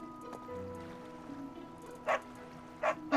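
A dog gives short barks in the Fire Emblem Three Houses video game, three brief yips spaced about a second apart over soft ambient game music, mid-distance and moderately loud.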